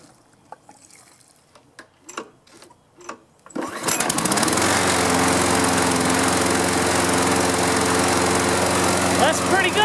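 A lawn mower fresh from carburetor cleaning, refueled after the gas was drained, catches on the first pull and settles into a loud, steady idle. A few quiet clicks and rustles come before it starts.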